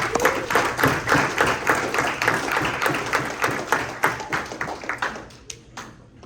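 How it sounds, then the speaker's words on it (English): A crowd at a breakfast event claps steadily as a speaker is introduced, dense applause close by that thins out toward the end with a few scattered final claps. "Let's give him a big round of applause"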